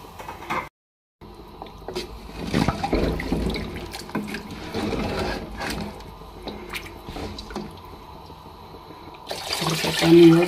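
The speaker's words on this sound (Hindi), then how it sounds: "पानी और शामिल करेंगे।" Water poured into a cooking pot of beef trotters being made Lahori style gives a splashing, gurgling pour after a short gap, with squishy stirring and a louder rush near the end.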